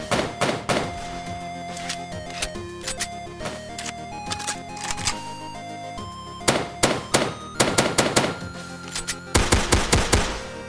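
Pistol and AK rifle shots from a Godot first-person shooter game, firing as sharp repeated bursts of close, loud reports with brief pauses between volleys.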